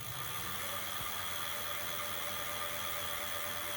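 A Voilamart 1000W electric bike motor runs under throttle with a steady, even whirring hum and a broad hiss, holding constant throughout without speech.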